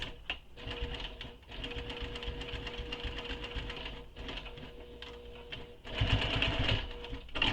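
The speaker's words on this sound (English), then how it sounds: "Just stitch right on top of that previous stitching all the way across." A sewing machine back-stitches across the top of a fabric quiver sling, running in a fast, rhythmic mechanical chatter close up, with brief pauses and restarts and a louder burst near the end.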